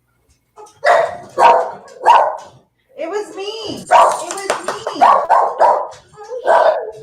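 A person imitates a dog barking, giving several short yapping barks and whimpers in a row, close and loud, followed by more quick bark-like yips; other voices talk around it.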